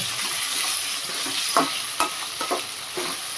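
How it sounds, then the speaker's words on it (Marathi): Chopped tomatoes and green chillies fry in a pan for a dried shrimp and jackfruit seed biryani, giving a steady close sizzle with four or five short spoon scrapes in the second half. "टोमॅटो छान असा नरम पडेपर्यंत शिजवून घ्यायचं"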